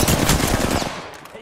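Rapid automatic gunfire in the video game Apex Legends, a dense close burst of shots that cuts off after about a second, leaving a brief tail.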